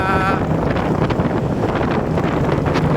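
Strong east-to-west wind at Pantai Baru beach buffets the microphone in a constant heavy rumble with gusty surges, and a brief voice is heard near the start.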